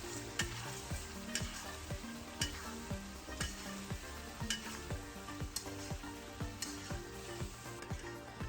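Chicken karahi with yogurt being stir-fried in a pan, a constant sizzle under a steady rhythm of spatula scrapes and clinks against the metal, close up and alone.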